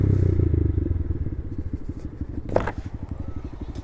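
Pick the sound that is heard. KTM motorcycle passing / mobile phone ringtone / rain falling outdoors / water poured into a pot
KTM motorcycle passing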